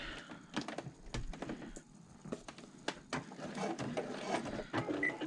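A sewing machine back stitches at the top of a bag pocket in short, start-stop bursts of mechanical whirring, with clicks and fabric handling between runs, close and fairly quiet.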